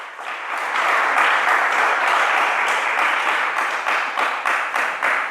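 A church congregation breaks into loud, sustained applause, dense clapping that holds steady for several seconds before thinning slightly toward the end.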